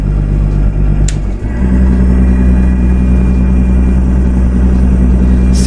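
A Volvo VNL 780 truck engine in American Truck Simulator climbing uphill: a loud, steady low rumble that drops briefly at a gear change, then settles back into a strong, even drone.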